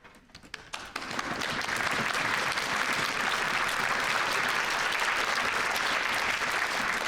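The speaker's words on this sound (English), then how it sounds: "We're going to clap for your parents and say thank you." Audience at a middle school honors orchestra concert bursts into dense, steady applause for parents after a few scattered claps, holding loud and even to the end.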